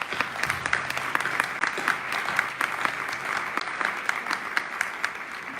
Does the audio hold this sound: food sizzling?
no